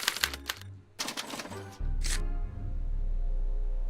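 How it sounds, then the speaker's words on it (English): A special typewriter in a video game set in a Back to the Future story clatters out a punch card, with rapid bursts of mechanical key strikes followed by a steady low whirring hum as the card is printed. "As the responses are recorded, they're relayed to this special typewriter"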